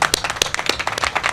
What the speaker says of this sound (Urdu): ان سب کے لیے تالیاں بجائیں